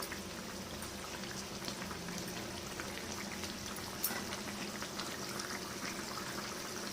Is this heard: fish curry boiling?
yes